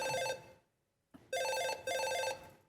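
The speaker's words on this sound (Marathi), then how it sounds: "काय रिंगटोन ठेवले ही फोनची." A phone ringtone plays on a comedy stage: bright, melodic electronic tones in a burst, a short silence, then two more bursts, loud and close.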